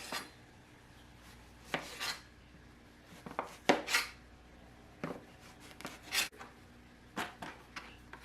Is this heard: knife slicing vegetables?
yes